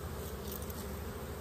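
Honeybees from a small, mixed colony hum steadily in a hive, a soft, close, continuous buzzing drone with no voices over it.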